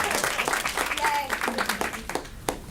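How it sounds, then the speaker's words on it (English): Audience clapping at a board of education meeting, a moderate scatter of hand claps with voices talking over and through it. "So we should also clap for them."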